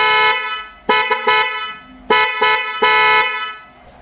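A Kaier genuine car horn set blares close up in a series of loud, tonal blasts, some short and some held longer, with no talking.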